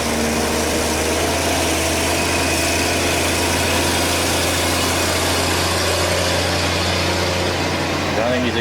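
A heavy four-wheel-drive vehicle engine idles loudly and steadily nearby, a constant deep rumble from a rough-sounding exhaust with rattling vibration and no change in pitch.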